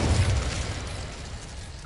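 An Incendio fire spell cast in Hogwarts Legacy bursts with a loud, low whoosh at the start, then fades into a steady crackling roar of flame.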